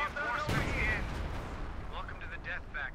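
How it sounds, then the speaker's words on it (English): Artillery fire in the game Company of Heroes 2, a heavy blast at the start followed by a rumbling low roar and scattered whistling and crackling bursts, loud and dense throughout. "So just a little placid artillery, just a break in the action"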